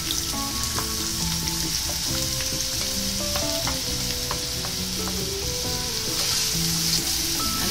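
Two large finely chopped onions frying in about three spoons of hot oil, a loud, constant dense sizzle with occasional stirring scrapes, heard close and steady without any voices.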